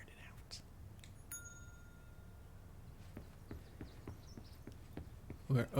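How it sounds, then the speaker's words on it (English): A bell in the video game Control dings once with a clear, ringing metallic tone that decays over about a second, set against quiet game ambience, soft footsteps and a faint voice. "We're opening doors every time we ding the bell."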